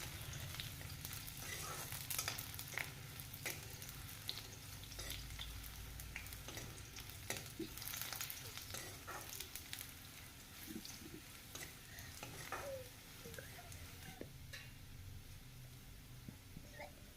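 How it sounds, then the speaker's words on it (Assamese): Chopped onions with fresh bay leaves frying in a pan, a faint continuous crackle and sizzle with scattered small pops and occasional scraping, quiet and steady throughout. "পিঁয়াজখিনি ৰঙচুৱা হোৱালৈকে মই এনেদৰেই ভাজি থাকিম"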